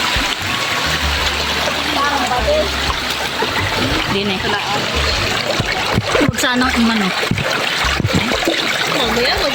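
River water splashes and trickles close by while people talk and call out over the constant rushing flow, with a few sharper splashes breaking through.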